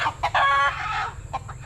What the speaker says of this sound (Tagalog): Tapos may dala kami manok 3 oh.